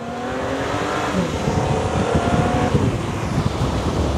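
An Aston Martin V12 Speedster, a rear-wheel-drive open car, accelerates with a steady loud engine roar under heavy wind rush, the engine note rising in pitch over about four seconds.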